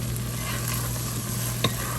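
Brain fry (bheja) cooking in a pan, stirred and mixed with a steady frying hiss under a low hum, and one short scrape of a spoon near the end.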